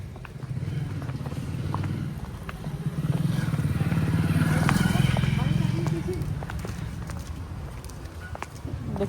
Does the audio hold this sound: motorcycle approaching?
yes